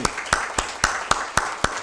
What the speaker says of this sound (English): I'd just call for a special round of applause for these young